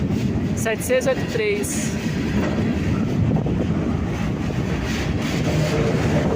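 A GE C30-7 freight locomotive hauling a rail train rolls past close by, with a steady rumble and clattering wagons throughout, while people chat over it.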